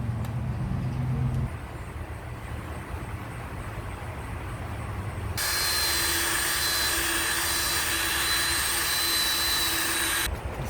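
Rotary tool sanding a 1998 Honda Prelude headlight lens with 3000 grit sandpaper, a steady whirring drone that jumps to a louder, higher-speed whine midway, then cuts off near the end.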